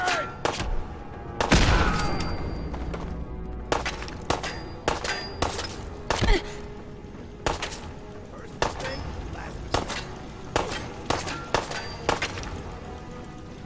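A grenade goes off in Fallout 4 among heavy combat, with a loud blast near the start, then repeated sharp metallic clangs and bursts of gunfire in an uneven rhythm, close and loud, with a voice speaking over parts of it.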